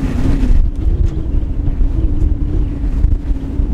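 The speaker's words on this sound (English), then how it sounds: "Leaving Camarinas, we had the most beautiful downwind sail." Sailboat running downwind on the open sea after leaving Camarinas, with a steady rush of wind and water along the hull heard close and loud throughout, no voices.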